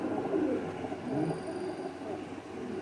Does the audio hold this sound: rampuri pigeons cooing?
yes